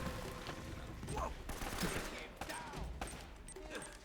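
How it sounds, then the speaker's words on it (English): Enemy gunfire from the action game Uncharted: Drake's Fortune crackles in rapid bursts of overlapping shots, fairly quiet and set back in the mix. "hide in cover while they keep shooting at you until they're out of ammo"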